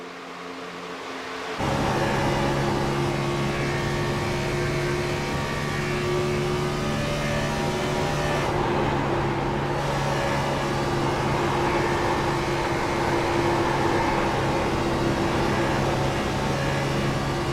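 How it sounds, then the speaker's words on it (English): A race car engine in a sim racing game drones loudly and steadily after starting abruptly, with a brief dip in pitch partway through as the driver lifts off the throttle going into turn 3, then resumes its even roar. "Hear that little bit of lift going into turn 3 with the off throttle time here"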